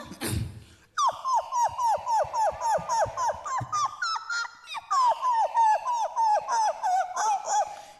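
A mimicry artist vocally imitates a dog, producing a long run of rhythmic, whiny yelps and whimpering cries with growly undertones, loud and close, following a brief noisy burst at the start.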